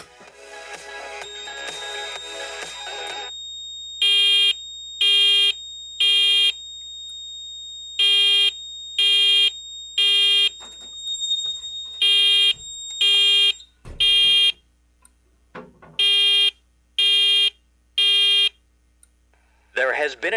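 Fire alarm system set off from a Firelite BG12LX pull station during a building test: loud, regular bursts of electronic tonal beeping in groups, sounding alone with brief pauses and a short thump between.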